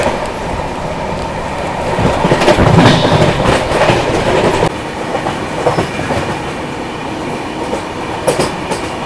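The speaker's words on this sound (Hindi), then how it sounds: "भाई पैरेलली ओवरटेक मार रहे हैं अपनी गुड्स ट्रेन को, जो कि अपने बराबर वाले ट्रैक पर चल रही है" The 12302 Howrah Rajdhani Express rumbles along heard from on board as it overtakes a goods train on the parallel track, a loud continuous roar with rhythmic wheel clatter and no talk.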